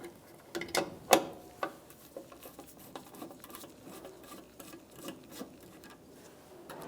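Torx T15 mounting screws being backed out counterclockwise from a 1997-2006 Jeep Wrangler parking light, giving faint, sparse ratcheting clicks and small mechanical ticks with a few sharper snaps near the start.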